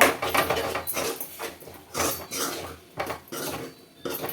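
A spoon stirs mutton kulambu in a metal pot, giving repeated close clanks and scrapes in an uneven rhythm, with no talking.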